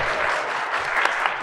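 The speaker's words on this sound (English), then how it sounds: "Round of applause, please." A church congregation at a Sunday service gives a round of applause, a steady, full burst of many hands clapping alone, with a few sharper claps standing out near the end.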